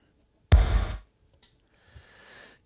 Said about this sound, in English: Listen to the sounds of him inhaling